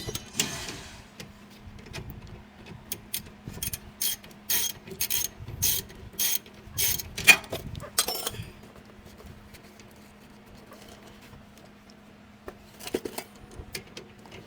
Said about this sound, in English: Go ahead and tighten this 14 back down.